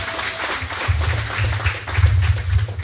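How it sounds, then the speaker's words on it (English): An audience at a community gathering applauds steadily and loudly, dense clapping filling the whole moment with a low rumble underneath. "So please give him a big applause"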